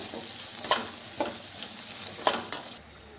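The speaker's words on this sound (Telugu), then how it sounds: "ఇక్కడ బంగాళదుంపలు కొంచెం మెత్తపడేంత వరకు వేయించుకోవాలి" Cubed potatoes, one medium potato, frying with onions in a pan make a steady crackling sizzle, with soft spatula stirs and scrapes at intervals and no talking.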